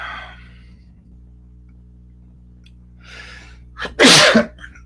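A single loud, sharp human sneeze bursts out near the end after a brief faint breath, with quiet room hum filling the rest.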